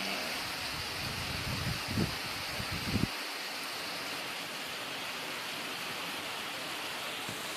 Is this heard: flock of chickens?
no